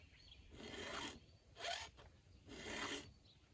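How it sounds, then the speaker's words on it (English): File pushed across chainsaw chain teeth during sharpening, three distinct rasping strokes close up, each about half a second long with brief pauses between them. "I push away when I'm filing. I don't drag the file back into the tooth."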